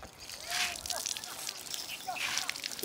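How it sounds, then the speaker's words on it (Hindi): Dry grass stalks for making a broom are sloshed and soaked in water in a hillside home, giving two bursts of splashing and trickling, with a voice talking faintly. "तो इसको पहले पानी में भिगोते हैं।"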